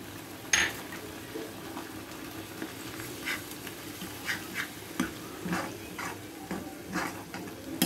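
A spoon stirs cumin, coriander and green chili paste through a curry pan for carrot chicken curry, giving soft repeated scraping and clinking strokes over a gentle sizzle, with one sharp metallic knock near the start.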